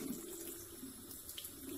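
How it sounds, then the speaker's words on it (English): Tap water runs steadily into a sink during tooth brushing, a soft continuous hiss heard close by with no talking over it. "while brushing your teeth, you should turn off the tap."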